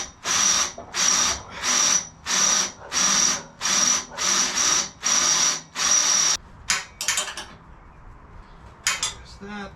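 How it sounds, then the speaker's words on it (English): Power drill match-drilling holes through a clamped handbrake part for a Jaguar Jag Special, the drill whining in about ten loud, regular bursts, each followed by brief clinks of metal and handling. "Let's get involved with some match drilling."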